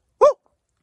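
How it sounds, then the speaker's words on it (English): One sharp dog bark at night, fairly loud and close, rings out once and then falls silent. "Those are definitely dogs."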